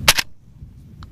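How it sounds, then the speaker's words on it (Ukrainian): A single suppressed shot from a silenced automatic rifle at a military firing range, heard as a sharp, loud double burst right at the start, then a quiet low rumble with a faint tick near the end. "Значить, це такий же автомат, тільки безшумний."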